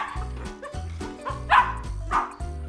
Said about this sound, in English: Have you ever wondered how dogs bark?